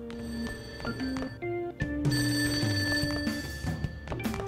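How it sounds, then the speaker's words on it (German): A telephone rings in a Persona 5 Royal game scene, with repeated bright electronic ring bursts mixed with game music and effects, fairly loud and close. "Dieses Klingeln kommt nicht von meinem Handy."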